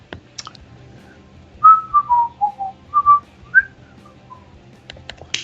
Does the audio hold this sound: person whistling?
yes